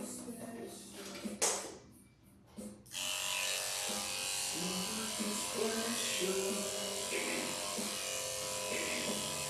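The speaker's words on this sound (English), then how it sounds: "I am now going to shave the back of his head and ears, his neck, and his body with a number 10 blade." Electric clippers with a number 10 blade shave a miniature schnauzer's head, ears, neck and body. After a few brief knocks, a steady, close, loud buzz starts and runs without a break.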